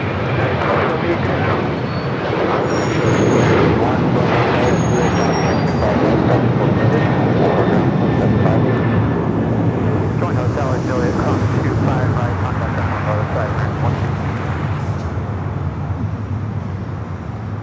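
United Airlines Boeing 737-900ER on its takeoff roll at LAX, a loud sustained jet engine roar that swells and then slowly thins as the aircraft climbs away, with voices talking over it.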